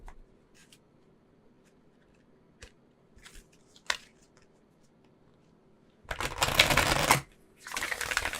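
Oracle cards being shuffled by hand, two loud riffling bursts near the end after a stretch of sparse light taps and card handling, close and with no talk.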